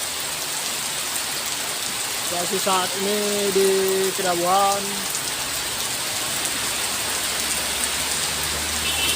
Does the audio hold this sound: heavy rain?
yes